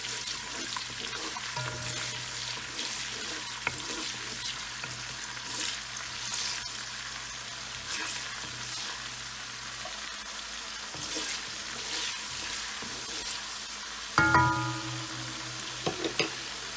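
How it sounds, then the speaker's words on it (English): Chopped onions sauté in a hot pan for Liberian fried potato greens, giving a soft, steady sizzle close by, with occasional clinks and a brief louder clatter near the end. "I'm going to saute a little."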